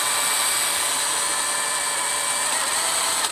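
A steady high-pitched electric drill whirs continuously and loudly, running at an even speed the whole time without pauses, while rebuilding a Honda front brake master cylinder.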